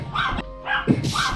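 A small pet dog gives short, close barks and yips, two quick bursts with a brief gap between them, with no voices over them.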